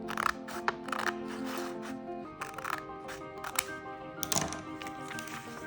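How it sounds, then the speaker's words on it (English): Scissors snip through paper along a drawn line during a children's craft project, a series of crisp close cuts and rustles in an irregular rhythm with no one talking. "With this line, I'm going to cut along."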